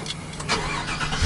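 A 2015 Chevy Rocky Ridge Phantom pickup engine being started, a short burst of starter cranking that catches into a rising engine rumble, close and fairly loud, with no talk.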